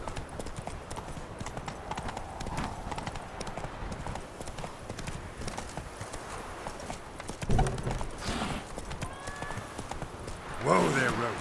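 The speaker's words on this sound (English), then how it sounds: "Whoa there, Roach" Horse hooves clip-clop steadily in The Witcher 3 video game, a continuous trotting rhythm with a brief whinny near the end and voices talking over it.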